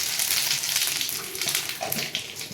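Radhuni seeds and a bay leaf are tempered in hot oil, giving a bright, crackling sizzle up close that swells and fades slightly over a couple of seconds, with no one speaking.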